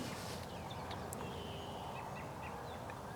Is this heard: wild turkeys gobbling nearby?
yes